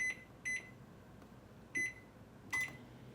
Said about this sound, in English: we're gonna pop this in the microwave for 90 seconds